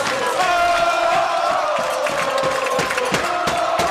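Continuous loud crowd noise fills a high school junior varsity basketball gym in overtime, a dense roar of cheers and yells holding steady throughout.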